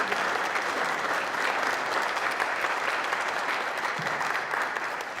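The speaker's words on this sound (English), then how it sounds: "Applause." Audience at a local news symposium applauding, a dense, even wash of clapping that holds steady throughout and eases slightly at the close.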